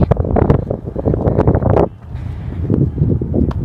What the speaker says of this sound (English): It's really windy though.